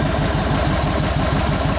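Kawasaki Vulcan 2000 Limited motorcycle idling through a Hard-Krome exhaust, a steady, loud low rumble with a regular loping pulse, close up and with no voices.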